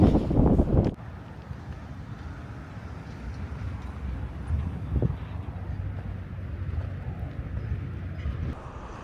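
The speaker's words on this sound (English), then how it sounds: "it's a windy day, and once you get up here, the breeze will cool you down" Constant wind rumbling against the microphone outdoors on a steep hilltop in Halifax, Nova Scotia, with a loud gust at the start and a few faint knocks.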